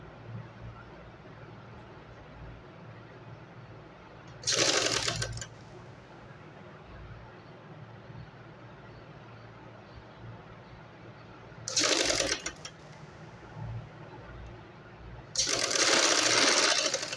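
A domestic sewing machine stitching a shalwar runs in three short bursts of rapid mechanical whirring, each a second or two long, separated by quiet stretches of faint room noise.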